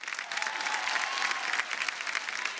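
Steady applause from a quiz show studio audience, a dense, even wash of clapping lasting a couple of seconds, moderately loud with no voices over it.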